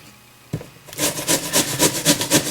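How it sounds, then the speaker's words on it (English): Bartlett pears rubbed against a hand grater for pear preserve, a quiet start and then a run of even, rhythmic rasping strokes close up, each firm and regular, with no voices. "You can see when you grate it, you don't want to grate it to where you get down to the core inside."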